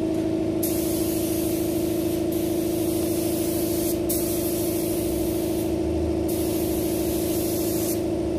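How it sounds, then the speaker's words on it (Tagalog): A newly bought spray gun sprays car paint in a steady, continuous hiss that runs the whole time, with brief pauses in its top edge and a constant compressor-like hum beneath, no talking. "Bali yung gamit kong spray gun na yan, bagong bili"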